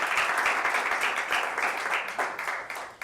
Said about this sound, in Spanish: Vamos a brindarle un aplauso a Cristo, que es el que se merece la gloria, la honra y toda la alabanza.